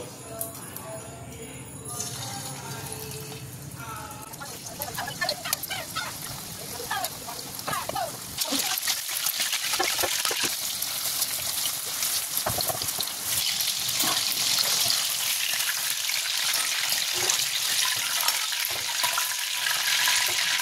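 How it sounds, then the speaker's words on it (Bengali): Chicken pieces fry in hot white oil in a wok, a hissing, crackling sizzle that swells louder after the first few seconds and then holds steady. Speech is heard early on. "এবার একটু একটু করে চিকেনগুলো ভেজে নেব"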